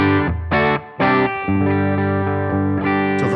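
Overdriven Fender-style guitar amp tone from the IK Multimedia Amp Vault Signature Collection, playing loud sustained distorted chords and notes in short phrases with a few brief breaks, no voices.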